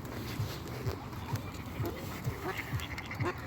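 Ducks on a lake in a dendropark quack in short, regular, fairly faint calls over steady outdoor background noise, with soft talk mixed in.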